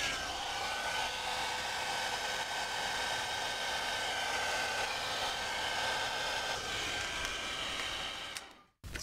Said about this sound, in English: So let's add some more alcohol and try the hairdryer